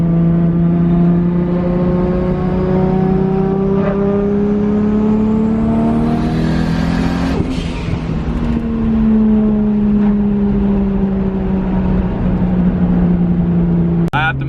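A 1JZ-engined car fitted with a new BorgWarner turbo pulls hard in third gear, its engine note climbing steadily in pitch, easing off briefly, then rising again, loud and close from inside the car.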